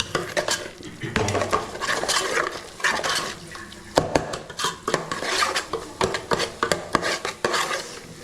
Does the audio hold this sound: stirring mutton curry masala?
yes